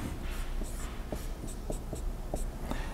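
Chalk or marker tapping and scratching out short strokes of geometry notation on a classroom board, a quick irregular series of crisp ticks and scrapes, close and fairly clear over faint room hiss with no talking.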